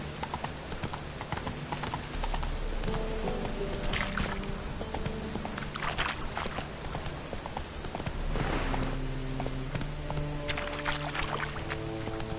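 Roach the horse gallops in The Witcher 3 with a steady, rhythmic clip-clop of hooves throughout, close and continuous over a bed of ambient game sound and music.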